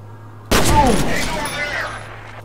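Loud burst of gunfire in the first-person shooter F.E.A.R., erupting suddenly after near silence and ringing out with a sustained decaying tail, with faint speech-like game sounds mixed in.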